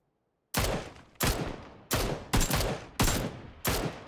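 Six separate gunshots in PUBG on Xbox One X, each a loud sharp crack with a short decaying tail, fired at an irregular pace about every half second to second after a brief quiet start.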